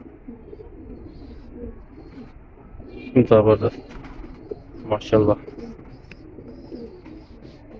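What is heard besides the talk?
pigeon cooing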